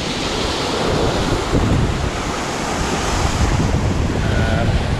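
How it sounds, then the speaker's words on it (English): Strong wind buffets the microphone while surf rolls and breaks along a tidal shoreline at Umkomaas, a steady, loud roar of wind and waves with no talking. "the wind is howling"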